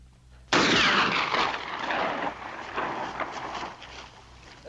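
A single loud, echoing gunshot in a 1956 western, a sharp blast followed by a long rumbling tail that fades slowly.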